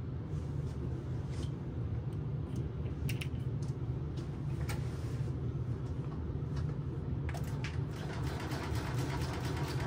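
A sewing machine stitching Tex 35 thread with a very small stitch runs steadily for the whole stretch as a dense mechanical whir, with a few faint clicks above it and no talk.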